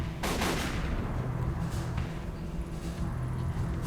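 Gunshots fired at a lock in the video game Tokyo Dark, a couple of sharp blasts at the start followed by loud, dense crowd commotion and noise.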